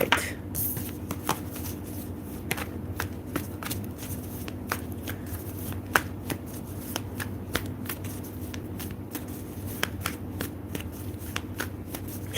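Playing cards shuffled over and over in a steady, close riffling patter with sharp little snaps, continuing throughout with no talk.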